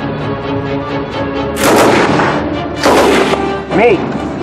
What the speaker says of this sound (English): This is the Lewis gun. This one happens to be in 30-06.